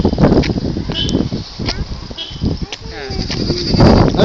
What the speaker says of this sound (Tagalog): Ayun o, kambing, goat o.